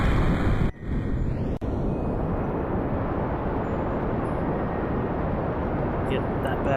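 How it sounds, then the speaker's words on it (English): A rocket engine in Kerbal Space Program burns with a loud, steady, low roar that rises after two brief dropouts near the start and holds constant to the end. "And of course it helps if we activate the engine."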